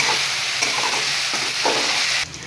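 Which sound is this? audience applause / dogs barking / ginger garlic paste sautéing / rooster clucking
ginger garlic paste sautéing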